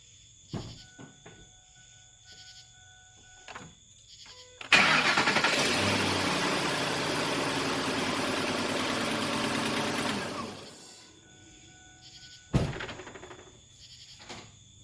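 A car engine cranks and catches after a corroded battery terminal is replaced, then runs at a steady idle for several seconds before shutting off; a few clicks and a thump come before and after.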